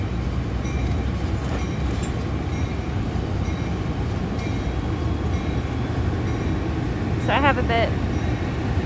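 Rumbling of a double-decker commuter train in the Bay Area, California, a steady loud low roar with rail rattle throughout, a brief squeal near the end, and a person speaking briefly over it.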